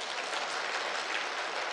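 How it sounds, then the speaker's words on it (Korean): Church congregation clapping during a Sunday sermon: a continuous, even wash of many hands clapping in a large room, moderately distant with no speech over it. "맞으면 박수 좀 쳐봐."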